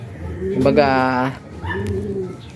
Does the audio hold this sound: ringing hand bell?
no